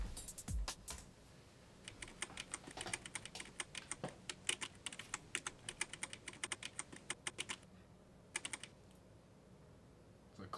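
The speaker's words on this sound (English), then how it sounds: "It's a clicky-ass keyboard." Rapid bursts of key clicks from a loud, clicky computer keyboard, uneven rhythm with short pauses, close but fairly quiet.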